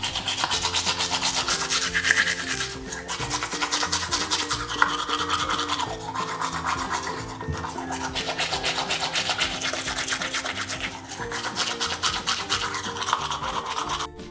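A toothbrush scrubs Play-Doh toy teeth in rapid, rhythmic back-and-forth strokes, a close, steady bristly rubbing that continues without pause and with no talking.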